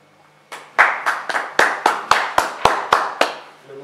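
An audience claps at a Czech poetry evening, about ten sharp, evenly spaced bursts of applause in a steady rhythm, close and fairly loud, with no talking.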